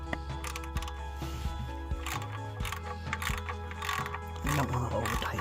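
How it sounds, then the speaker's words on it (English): A ratchet clicks in short bursts as it tightens the oil drain plug, fitted with a new crush washer, on a 2010 Toyota Sienna. The clicks are close and crisp, with brief pauses between strokes. "I'm going to tighten the drain plug back up."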